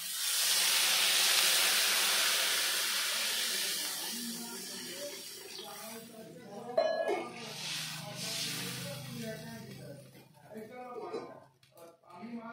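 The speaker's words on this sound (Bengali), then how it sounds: "এবার দিয়ে দেবো পরিমাণ মতো জল।" Water poured over fried potatoes in a hot pan for a bitter gourd and hilsa fish curry, opening as a loud hissing burst of steam that fades into bubbling while someone talks.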